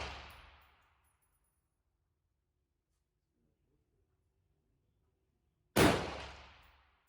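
An M4 rifle firing at a 25 m zeroing range: two loud, close single shots several seconds apart, each with a sharp crack and a quickly fading echo, and near silence between them.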